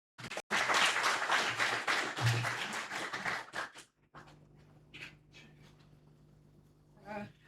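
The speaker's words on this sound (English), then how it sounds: "Another big hand of applause for the Honorable DM." At an ICT stakeholders engagement meeting, a room of attendees bursts into loud, dense applause that lasts about three and a half seconds and stops abruptly, followed by quiet murmurs and small room sounds.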